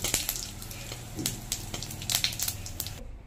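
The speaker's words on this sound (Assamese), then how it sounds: "এইকেইটাও ফুটি উঠালৈকে ভাজি লওঁ।" Cumin seeds fry in hot oil, giving a close, continuous sizzle with scattered sharp crackles and pops, then cut off abruptly near the end, with no voices.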